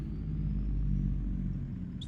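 A car in a video game circling a full lap around a roundabout, its engine a steady low rumble close by with no talk over it.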